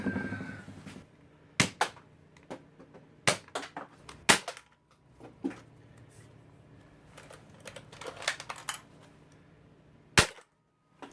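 A modded Nerf Roughcut blaster fires darts through a chronograph, making several sharp, loud snaps spaced seconds apart with quieter clicks and handling noise between.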